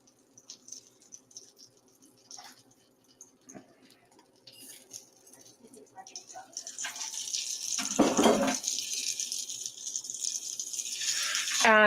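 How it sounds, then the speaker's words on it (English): Dry rice poured from a cup into a pot holding water in a home kitchen, a rushing, rattling pour that swells louder midway and continues steadily, preceded by faint clinks and rustles. "I'm putting 2 cups of rice into 3 cups of water."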